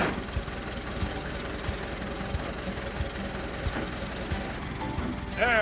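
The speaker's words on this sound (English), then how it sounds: "Check this thing out. It runs." A 1926 International Model 54 house-moving truck engine idles steadily with a low, knocking rumble and irregular mechanical taps, while people talk faintly nearby.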